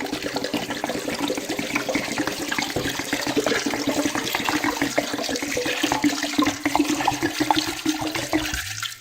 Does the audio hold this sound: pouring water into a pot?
yes